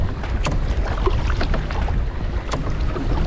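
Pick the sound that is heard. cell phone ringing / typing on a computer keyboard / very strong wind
very strong wind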